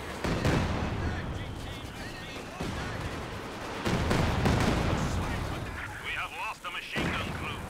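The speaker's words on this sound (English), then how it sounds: "She's doing some good damage on this barrage" An artillery barrage in a Company of Heroes 2 2v2 match on the Antaria map: repeated booming blasts and gunfire crackle, dense and loud, with a voice commenting underneath.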